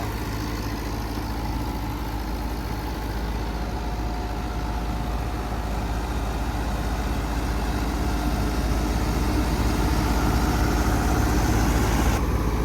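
A New Holland 850 tractor idles at low RPM beside a wheat thresher, a steady, close, continuous low engine rumble that holds even throughout with no talk.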